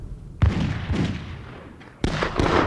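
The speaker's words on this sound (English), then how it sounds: "a shot is passing through his head." Gunshot sound effects in a dramatized historical account of the Modoc War: a sharp, close bang followed by a decaying echo, then a second loud shot near the end, with quiet between the blasts.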